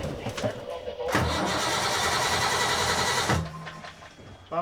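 A boat engine cranks and catches, then runs loud and steady for a couple of seconds before cutting out, with voices talking faintly around it.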